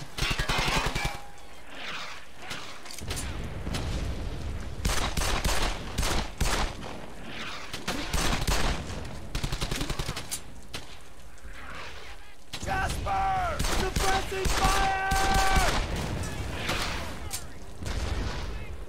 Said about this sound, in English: You're under fire!